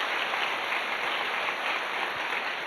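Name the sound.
church congregation applause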